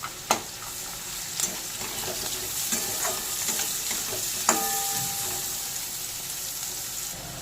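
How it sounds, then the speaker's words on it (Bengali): Cashews sizzle in hot oil in a pan for vegetarian fried rice, a steady close frying hiss broken by a few sharp spatula clinks and scrapes as they are stirred. "কাজুগুলোকেও এর মধ্যে একটু ভেজে নেবো"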